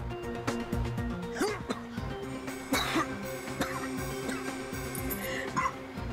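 A few sharp coughs break out over steady background music, spaced a second or so apart.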